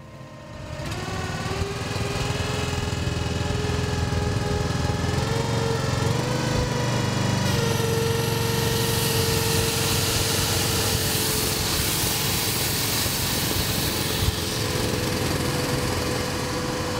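A farm tractor engine runs steadily and fairly close on a large soybean and corn farm, a continuous droning hum with no talk over it.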